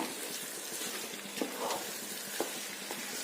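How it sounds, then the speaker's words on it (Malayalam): Tomatoes and masala with salt are sautéed in a pan for Ambur biryani: an even, moderate sizzle with a couple of soft spatula scrapes, no voices. "ഇനി ഇതെല്ലാം കൂടെ നല്ലതായിട്ടൊന്ന് വഴറ്റണം"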